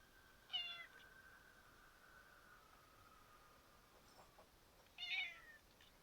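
A cat meows twice, a few seconds apart, fairly faint over a steady low hiss and a thin background tone.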